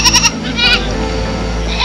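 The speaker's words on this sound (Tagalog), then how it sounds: "Kambing!" A goat bleats several times in quick succession near a rural area close to houses, loud and close, with a steady low background hum underneath.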